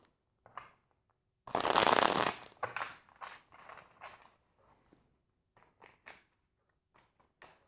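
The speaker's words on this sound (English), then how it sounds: "And I'm going to shuffle this way once." A deck of tarot cards is shuffled in one loud riffling burst, then followed by softer scattered card handling and brief rustles, with quiet pauses between.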